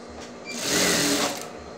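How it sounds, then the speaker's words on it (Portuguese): A sewing machine runs steadily while stitching a fabric bag closed, a continuous whirring that swells louder in the middle and eases off toward the end, with no talking. "Aí você vai só costurar agora pra fechar a bolsa."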